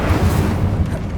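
Incendio fire spell blast in the video game Hogwarts Legacy, a dense, booming burst of fiery roar that stays loud and steady throughout, with no voice over it.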